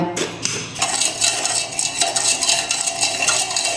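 Three spoonfuls of sugar go in and are stirred with a metal spoon, a steady run of close clinks and scrapes against the vessel in a home kitchen, with no talk.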